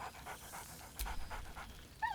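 Scratch, the dog companion in Baldur's Gate 3, pants in quick, soft breaths, then gives a short rising whine at the end; the sounds are close and faint, with no talk.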